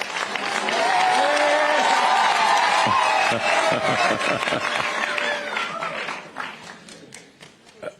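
Crowd applause and cheering at a political rally in Nairobi for people living with disabilities, a loud sustained burst of clapping with whoops that gradually thins and fades toward the end.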